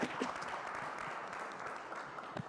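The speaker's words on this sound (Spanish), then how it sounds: "¿se vale el aplauso?" A panel audience on women's leadership in STEM gives a short burst of clapping, fairly faint and distant, dense patter filling the room briefly.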